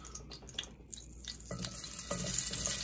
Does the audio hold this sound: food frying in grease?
yes